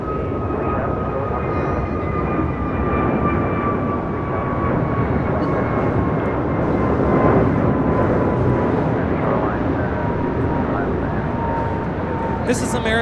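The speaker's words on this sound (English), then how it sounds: "This is American Airlines 265 taking off to Livery on an A321neo." An American Airlines Airbus A321neo jet takes off at LAX with a loud, steady engine roar and a high whine that hold through the whole stretch.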